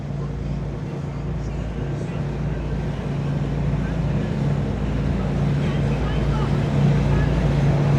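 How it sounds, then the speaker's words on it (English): A boat motors past off Crab Island, its steady low engine drone and hull rumble running continuously under wind noise, moderately loud and drawing slightly nearer toward the end. "That's a boat right there."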